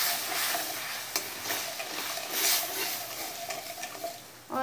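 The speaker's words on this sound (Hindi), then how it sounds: "अब हम इसी कढ़ाई में 1/4 कटोरी दूध, 1 कटोरी से थोड़ा सा कम चीनी तो मिला लेंगे। चाशनी बनाएंगे दूध की।" Milk and sugar are stirred together in a kadhai for syrup, a soft scraping swirl with light sizzling and occasional clinks of the spoon against the pan.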